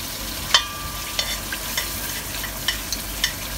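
Ghee and oil frying in a pot for beef biryani, a soft steady sizzle with several sharp scrapes and clinks from stirring, heard close with no talking.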